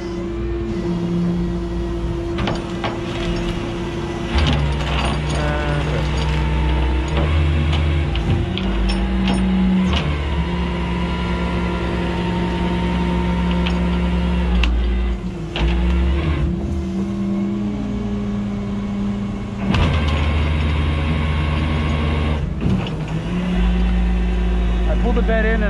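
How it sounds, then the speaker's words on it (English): A winch mechanism whirs and grinds as it lets out cable to unload a car stuck in park and set on skates, with long loud motor drones, clunks and a voice speaking over it. "I release the winch so that I'm not unwinding the whole winch by itself"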